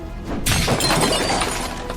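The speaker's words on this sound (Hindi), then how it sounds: "जब लॉक टूट गया" A door lock breaks under a blow from a large stone, a sudden loud shattering crash that rings on and fades slowly over a couple of seconds, with no voices.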